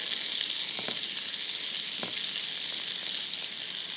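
Onions sizzling steadily in a pan while a Bengali dish is being cooked, continuous hissing fry with a few soft scrapes of stirring, close and even throughout.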